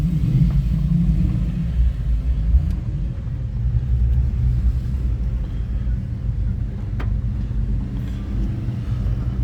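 Modified Mark 3 Ford Capri at a classic car and hot rod festival, its stronger-than-stock engine giving a steady, deep low rumble close by, with faint voices in the background.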